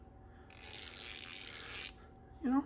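A Vevor 1/4-inch drive ratchet from a socket set is spun, making a single sustained, fairly loud mechanical whirring rasp that stops abruptly. A short voiced sound follows at the end.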